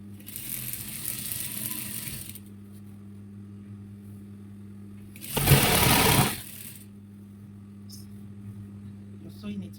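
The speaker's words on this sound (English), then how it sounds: "The next sewing, you're sewing on the elastic, okay? While you're sewing it, you're stretching it." A sewing machine stitches stretched elastic onto the waistband of palazzo trousers, running steadily for about two seconds, pausing, then whirring again in a short louder burst, with a low background hum and talk nearby.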